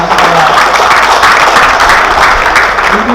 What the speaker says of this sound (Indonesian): Kita beri tepuk tangan untuk anak-anak sekolah.